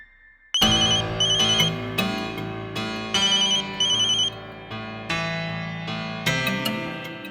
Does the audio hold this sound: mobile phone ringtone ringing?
yes